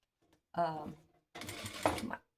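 A sewing machine with the presser foot set to a quarter inch stitches down both sides of a tape in two short bursts. A person talks nearby during the stitching.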